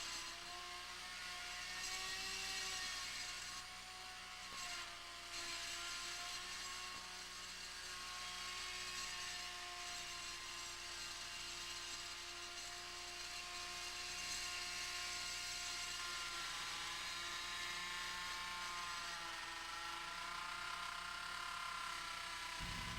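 A router mills cove cuts into a slowly rotating wooden workpiece for a plate rack's barley twist, giving off a continuous motor whine with a low mechanical rumble. The sound stays steady and close throughout, with no talking.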